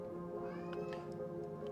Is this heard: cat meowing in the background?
yes